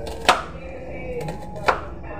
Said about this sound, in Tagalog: Ating hiwain ng sibuyas.